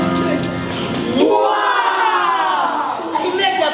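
An audience at a high school play cheers and shouts together in a loud, sustained crowd roar that stays close and continuous.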